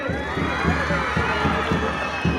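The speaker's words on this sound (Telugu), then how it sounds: "అందరు గట్టికి చప్పట్లు పెట్టండి." An audience at an honoring ceremony for the captain of India's women's blind cricket team claps loudly, with crowd cheering running throughout in a steady, dense roar.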